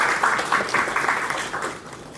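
Audience applause at a state-level sickle cell disease conference in Bhopal, Madhya Pradesh, a steady wash of clapping from a hall crowd that gradually fades, with no speech over it.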